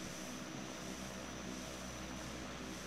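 Steady, loud propeller aircraft engine drone from an A-29 in the FSX flight simulator at takeoff, a continuous even roar with no talk over it.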